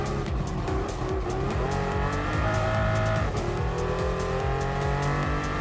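Lime green Pagani Huayra mid-engine hypercar racing in Gran Turismo Sport, engine note loud and steady with rising and falling gear sweeps, tire squeal and other cars close by throughout.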